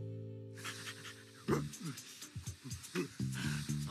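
A dog pants in quick, close, breathy bursts that start abruptly after a sustained tone, with voices talking over part of it.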